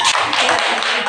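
Classroom applause rings out for a student's correct answer, a dense, steady patter of many hands clapping together for about a second, fairly loud and close.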